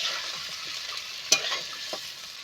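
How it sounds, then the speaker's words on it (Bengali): Fish head curry with green banana hisses softly as it is stir-fried in a pan with a little water. A gentle steady sizzle runs throughout, broken by a couple of faint utensil taps. "অল্প জল দিয়ে সুন্দর মতো করে কষিয়ে নেব।"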